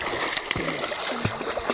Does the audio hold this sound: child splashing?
yes